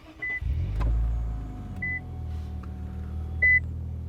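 A 2021 Infiniti Q50 Red Sport 400 AWD starts by remote: a few soft electronic beeps, then the engine catches with a low rumble that settles into a quiet, steady idle.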